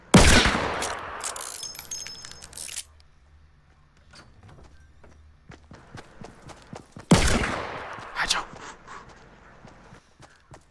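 Bursts of Fortnite gunfire from a maze minigame crack out at the start and again later, loud and close, with scattered lighter shots and footstep-like taps filling the quieter stretch between.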